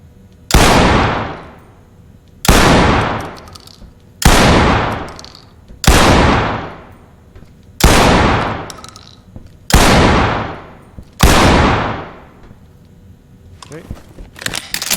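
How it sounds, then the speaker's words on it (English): Seven loud shotgun blasts from a tube dump in the video game Ready or Not, spaced about every one and a half seconds, each with a sharp crack and a long decaying tail, then a clatter. "I'm going to just do a mag dump, or a tube dump."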